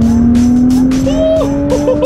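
A 2017 Nissan GT-R is driven fast, its engine holding a loud, steady droning whine that creeps upward in pitch, with road noise and a faint higher tone underneath.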